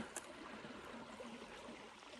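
Creek water flows in a soft, steady rush at a natural area on a hike, faint and continuous with no voices over it.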